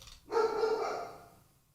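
A single dog bark sounds indoors: one drawn-out, tonal woof that rings briefly and fades, moderately loud and close, with no speech over it.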